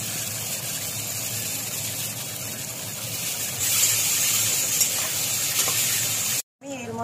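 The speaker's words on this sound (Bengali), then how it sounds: "আলুটা আমার লাল হয়ে ভাজা হয়ে গেছে।" Potatoes frying in a pan with turmeric and salt while cooking a banana flower dish, giving a steady loud sizzle that swells midway, then a brief cutoff near the end.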